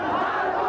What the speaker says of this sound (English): the people cheering them on with the slogans and victory signs of Aquino echoing behind them